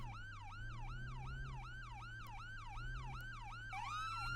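Pennsylvania State Police car wails with a rapid, repeating yelp siren, heard from inside the cruiser over a steady engine and road hum, with a second tone overlapping near the end.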